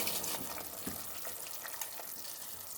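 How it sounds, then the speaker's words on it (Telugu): Soaked rice tipped into a pot of boiling water for bagara rice, giving a steady close hiss and rushing splash with faint bubbling throughout, no voices. "ఇప్పుడు ఇందులో మనం నానబెట్టుకున్నాం కదా ఆ బియ్యం ఇందులో వేసేసుకుందాం."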